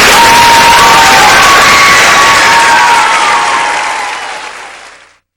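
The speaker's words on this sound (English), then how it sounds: "let's give another big round of applause for our first group of little guests" Loud sustained applause and cheering from a pageant audience at the 2003 Miss Strassenfest, with whoops and children's shouts over dense clapping that fades out over about five seconds.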